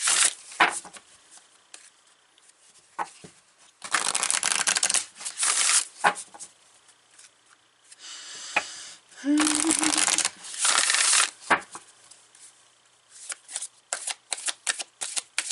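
Oracle cards are shuffled up close in repeated bursts of riffling and flapping, separated by short quiet pauses, with no talking over them.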